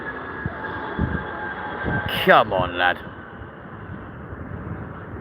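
A Vueling airliner with yellow engines passes at London Heathrow, a steady engine roar with a brief louder rising sweep midway, while someone speaks briefly over it.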